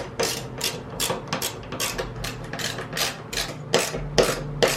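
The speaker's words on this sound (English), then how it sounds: "now I'm gonna go through with the wrench and just shore everything up" A hand wrench tightens bolts on a luggage rack fitted to a Triumph Scrambler 900 motorcycle, making a steady run of close, rapid ratcheting clicks and rasping metal strokes in an uneven rhythm.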